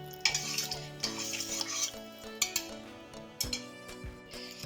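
Flour cooks in a pan with soft sizzling under sharp, intermittent clinks and scrapes of a utensil against the pan, close and quiet.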